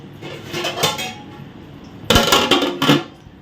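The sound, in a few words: covering fish curry pot with plate as lid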